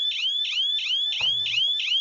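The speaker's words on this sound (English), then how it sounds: "When I hear this Bangladesh alarm" Bangladesh's emergency alert system alarm sounds as a loud, rapid series of rising electronic whoops. Each whoop repeats about every quarter second without pause and plays alone, with a brief low thump partway through.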